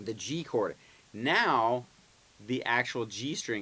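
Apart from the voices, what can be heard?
None of the usual background noises is heard.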